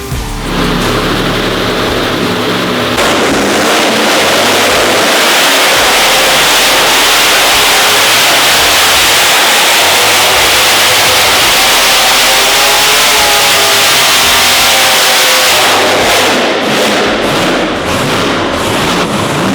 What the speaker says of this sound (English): we finally got the Hilux to a point where we can go and do some burnouts